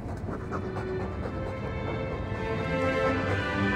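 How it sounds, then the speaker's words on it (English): A dog in the video game Dragon Age 2 pants heavily, with rapid, rhythmic, breathy huffs close up that continue without pause at a steady, fairly loud level. "All that noisy dog breath, day in, day out, make him stop."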